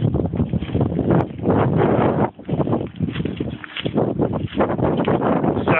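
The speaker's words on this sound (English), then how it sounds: "you probably can't even hear me for all the bloody wind again" Strong outdoor wind buffets the microphone in a constant loud rumbling roar, gusting unevenly throughout and masking other sounds.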